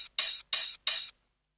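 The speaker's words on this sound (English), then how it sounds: "with this hat, I'm going to make a pattern that is 4/4 to the beat" Hi-hat in a beat loop, playing a straight 4/4 pattern: four crisp, bright hits of even length in steady succession, heard alone, then silence.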